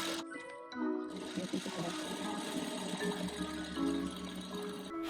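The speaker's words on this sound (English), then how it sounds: "you'll continue sewing just to make the string for the crotch area" A sewing machine stitching the string section of a thong bikini, a close, steady mechanical whirr with a rapid needle chatter running almost without pause after a brief start.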